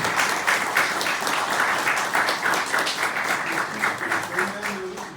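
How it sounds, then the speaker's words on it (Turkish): Sustained applause from a crowd at a poetry award ceremony, steady and fairly loud throughout, with dense overlapping claps and some voices mixed in. "alkışlar bu kadar mı hemşehrin?"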